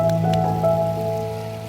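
Heavy rain pours over a flooded village in Gujarat, a dense continuous wash of water hiss under a steady low droning hum, close and loud throughout the short stretch.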